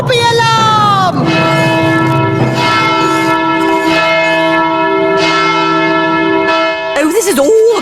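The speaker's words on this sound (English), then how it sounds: "Sound the Daisy and Poppy alarm!" A loud ringing bell sounds repeatedly with long sustained tones, starting right after a falling sweep and ending with brief bright flourishes.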